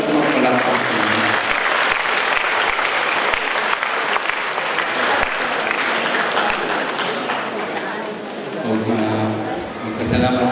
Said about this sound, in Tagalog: Di ba ito mga palakpak niya?